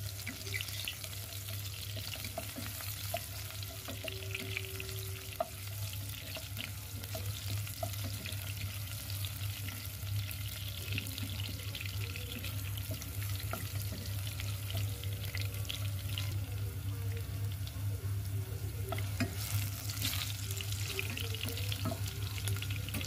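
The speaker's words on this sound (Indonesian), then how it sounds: "yang pertama saya goreng dulu bawang putihnya ya" Quiet, steady crackle and sizzle of garlic frying in oil, with faint scattered pops and a low background hum throughout.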